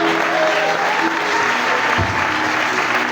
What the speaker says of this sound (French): je vous demande de les applaudir très chaudement